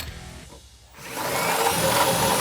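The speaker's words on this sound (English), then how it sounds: "we're going to take a 25/64 drill bit and drill those 2 holes out" A power drill with a 25/64 bit boring out two holes in a steel rock slider for a Jeep Gladiator JT; a steady, loud grinding whine starts after a quiet moment and holds to the end.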